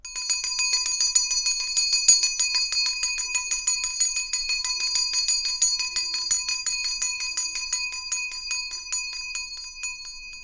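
A hand bell rings steadily and repeatedly with bright, sustained metallic tones that shimmer and overlap, close and clear with no talking.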